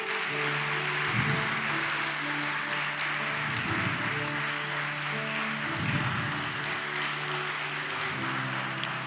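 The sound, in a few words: church congregation applauding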